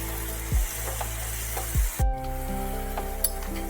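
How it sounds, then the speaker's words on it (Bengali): Shrimp stir-fried with amaranth greens in a pan, a soft steady sizzle broken by a few low thumps and scrapes as the mixture is stirred, fairly quiet and close. "চিংড়ি মাছগুলো নাড়ানাড়ি করতে করতে পুরোটা মিশেও যাবে"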